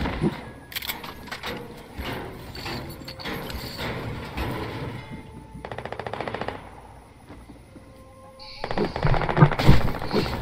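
Fortnite gunfire sounds in bursts, with a rapid rattling automatic volley in the middle and sharp louder shots near the end, set against busy game noise.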